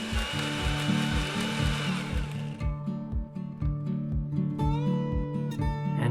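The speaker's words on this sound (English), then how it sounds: "Now we'll blend this all up quickly. Give it maybe 5 to 10 pulses." Blender pulsing lemon and salmon ingredients: a close, loud motor in a steady run of short, even bursts, with no voices.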